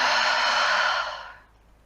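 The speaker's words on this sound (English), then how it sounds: "Let's breathe in and out" A single deep, slow breath exhaled close by, a steady airy rush that fades out toward the end, with no talking.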